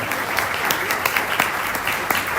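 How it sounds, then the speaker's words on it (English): Audience applause greeting a panelist as she walks on stage at a conference event in Nairobi; steady, fairly close clapping from a crowd continues throughout with little variation. "Please, can we give her a round of applause as she comes on?"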